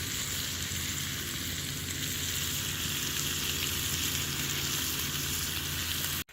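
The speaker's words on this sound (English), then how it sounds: "Got ourselves a little bit of bacon cooking on the fire." Bacon fries in a pan over an outdoor campfire, giving a steady close crackling sizzle that runs unbroken before cutting off abruptly at the end.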